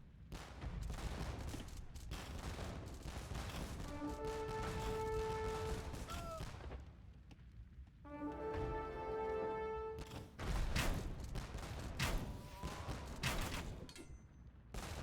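Organ gun in Age of Empires II firing rapid volleys of shots, mixed with clashing battle noise and game effects during a castle assault, steady and busy throughout with brief tonal cues.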